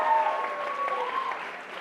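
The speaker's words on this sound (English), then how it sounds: "we're going to give a big round of applause to Neelam" An audience gives a round of applause at a live Bollywood Wives event, a steady dense clapping wash that stays loud for under two seconds, with a faint tone running beneath it.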